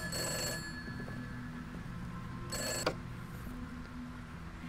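An old-fashioned telephone bell rings in two bursts a couple of seconds apart over a low, steady background hum.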